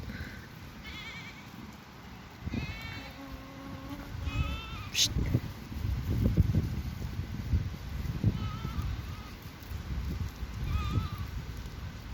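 Sheep and lambs bleat several times at intervals, some close and some farther off, over a rough outdoor background on green pasture land.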